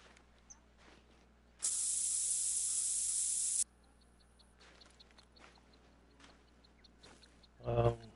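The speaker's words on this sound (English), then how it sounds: "And basically, I just spray it on the bushes." A scent attractant sprayed onto bushes in theHunter: Call of the Wild gives one loud, sustained hissing spray of about two seconds, then quiet ambience with faint ticks and a brief rustling burst at the end.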